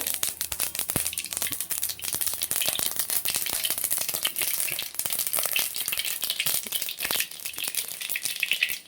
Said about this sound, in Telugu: 2 టేబుల్ స్పూన్ ఆయిల్ తీసుకొని అందులో కొద్దిగా ఆవాలు, కొద్దిగా జీలకర్ర